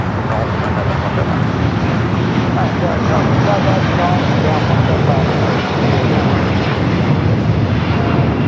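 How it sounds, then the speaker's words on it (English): A Boeing 787-9 Dreamliner on El Al Flight 1304 takes off at LAX to Tel Aviv, its engines producing a loud, steady, broadband roar that holds constant throughout. "This is El Al Flight 1304, taking off to Tel Aviv on the 787-9 Dreamliner."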